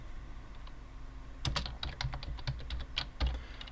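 Computer keyboard keys clack in a quick irregular burst of typing partway through, close and clear over faint room hum.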